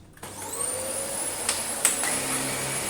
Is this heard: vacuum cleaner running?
yes